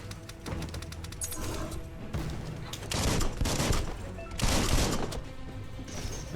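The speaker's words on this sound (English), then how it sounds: "So they teach you how to shoot." Rapid bursts of gunfire in the video game Biomutant during the shooting tutorial, with loud repeated shots in clusters and heavier blasts mixed with impacts and game effects.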